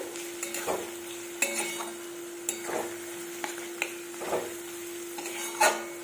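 Vegetables for fried rice sizzle steadily in a hot pan, with repeated scraping stirs and occasional utensil clinks close by, and no talk.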